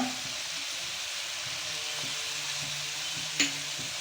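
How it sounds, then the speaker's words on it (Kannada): Onions fry in oil in a pan with a steady close sizzle, punctuated by soft stirring knocks and one sharper clink near the end. "ಸ್ವಲ್ಪ ಎಣ್ಣೆ ಹಾಕ್ಕೊಂಡು 2 ಕಪ್ ಈರುಳ್ಳಿನ ಫ್ರೈ ಮಾಡೋಕ್ಕೆ ಹಾಕ್ಕೋಬೇಕು"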